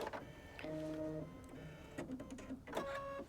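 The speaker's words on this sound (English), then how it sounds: "We'll stitch those channel lines." A sewing machine stitches channel lines on a quilt, a close mechanical whir with steady tonal hums that shift pitch between brief pauses.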